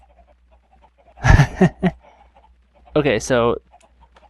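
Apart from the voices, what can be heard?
chickens clucking in a Minecraft pool, video game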